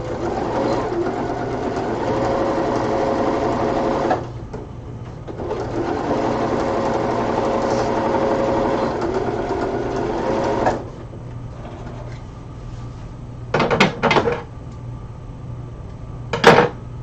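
Sewing machine stitching the shoulder seam of a Freya cosplay costume, running in two long steady bursts of about four and five seconds, followed by quieter handling and a few short sharp clicks.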